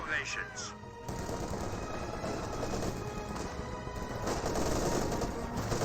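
MG34 machine guns fire continuously in the Company of Heroes 2 strategy game, a dense rattling stream of shots under battle noise, with a commentator talking over much of it.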